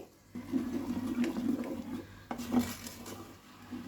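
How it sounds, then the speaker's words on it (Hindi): Water splashing and pouring as a bowl is rinsed out and emptied into a metal pan of butter chicken gravy, with light clinks of cookware. "बाउल को धो के उसका पानी भी इसमें डाल देंगे"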